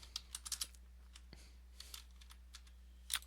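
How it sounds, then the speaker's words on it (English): Keys tapped on a calculator while solving a right-triangle angle problem, a quiet irregular series of light clicks in small bursts with a louder cluster at the end, faint over a low steady hum. "Oh, I'm hitting all the wrong keys."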